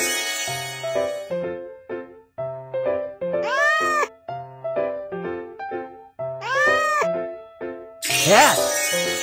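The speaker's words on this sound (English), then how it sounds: "Cat." Repeated cartoon cat meows from a children's hearing test game, several drawn-out mews spaced over a bouncy musical backing, ending on a brighter chime-like flourish.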